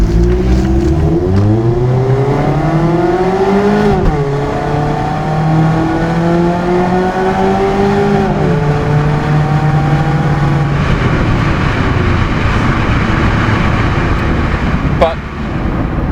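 Car fitted with a Goodwin Roadstersport exhaust, engine revving up and down in repeated rising and falling pulls, loud and close with a droning exhaust note, under someone talking.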